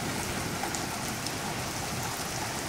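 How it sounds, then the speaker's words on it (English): Steady, heavy rain falling during a Texas thunderstorm, a constant broadband hiss of drops on surfaces, close and continuous with no voices. "Then the rain calms down."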